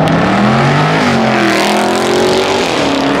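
NASCAR race car driving on a public road near a car meet, its loud engine roaring close by with rising and shifting revs across a few seconds, no talking.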